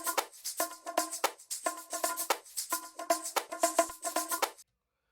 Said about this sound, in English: Then I added some shakers.